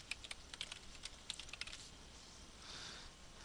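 Quick bursts of keystrokes on a computer keyboard, close and quiet, a scattered run of sharp clicks that slows and gives way to a faint hiss near the end.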